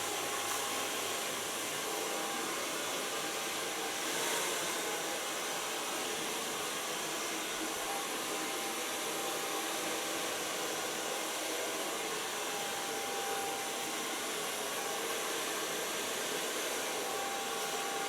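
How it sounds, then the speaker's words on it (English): A hair dryer blows steadily and loudly at close range for the whole stretch, drying long hair worked with a large round brush, with no talking. "Take a large brush, starting in the underline, and blow drying my hair."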